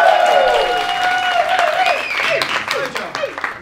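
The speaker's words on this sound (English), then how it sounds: "the really intelligent audience will use that as a cue to give them a very round of applause" Applause breaks out from the audience after a linking rings trick at a student magic society show, with scattered claps under voices and tonal sounds.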